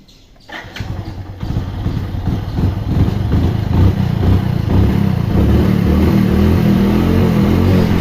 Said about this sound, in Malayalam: സിമ്പിളായിട്ട് നമ്മൾ ബൈക്ക് സ്റ്റാർട്ട് ആയത് കാണാം